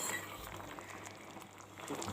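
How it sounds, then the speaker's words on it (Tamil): Milk simmering in a pan, a soft steady bubbling and faint hiss, close and quiet, with no voices. "இது மாதிரி கொதிக்கும்போது கொஞ்சம் நேரம் கொதிச்சா போதும்."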